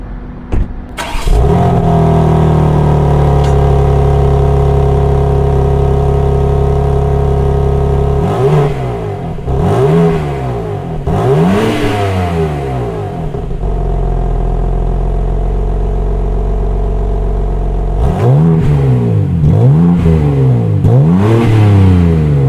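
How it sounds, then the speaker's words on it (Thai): A BMW M3 Touring's 510-horsepower inline-six fires up with a starter crank, settles into a steady idle, then gives two sets of sharp revs separated by a stretch of idle, loud and close with no talking. "เดี๋ยวผมสตาร์ทให้ฟังเสียงนะ"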